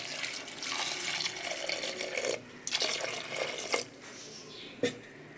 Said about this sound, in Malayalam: കുറച്ചൊന്ന് മുങ്ങണ രീതിക്കുള്ള വെള്ളം ഒഴിച്ച് കൊടുക്കാം.